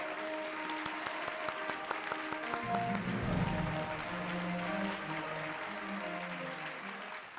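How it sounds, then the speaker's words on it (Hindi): An audience at a television awards ceremony gives warm, sustained applause to welcome Rashmi Sharma, with a soft musical backing underneath. "जोरदार तालियों से स्वागत कीजिए रश्मि शर्मा का"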